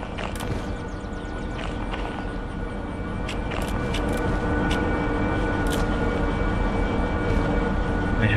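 A locomotive in the train-driving video game Derail Valley rumbles and rattles steadily, with sharp metallic clanks and knocks scattered through a dense, loud mechanical roar.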